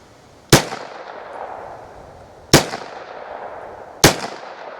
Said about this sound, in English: Let's get this second mag run through it.